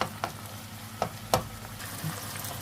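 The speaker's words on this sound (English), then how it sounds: "Put all that garlic there just to one side and let it just fry off a bit." Garlic frying in a pan while home-cooking cottage pie, a soft steady sizzle with a few sharp clicks and taps of utensils against the pan, close and fairly quiet, no voices.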